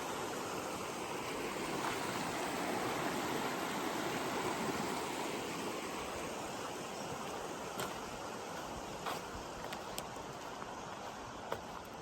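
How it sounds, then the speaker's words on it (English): A small creek flows past a campground on a dirt road, a steady close broadband rush of running water that stays constant throughout, with a few faint clicks toward the end and no voices. "So on this nice little creek here."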